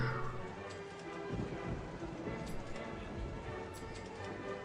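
Rain falling in the theme park game OpenRCT2 (RollerCoaster Tycoon), a faint, steady hiss of rainfall with low rumbling and a few light ticks, continuous throughout.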